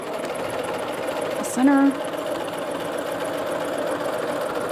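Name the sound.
sewing machine stitching fabric, stay stitch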